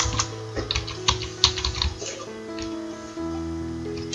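Close computer keyboard typing, with a quick run of crisp key clicks and taps that ends in a final keypress, heard alone without voices.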